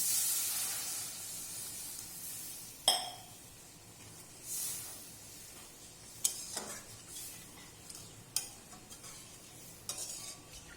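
Water hits hot oil and spices in a pan for a rohu fish curry, setting off a faint, steady hiss broken by a few sharp clinks and scrapes, with no talking.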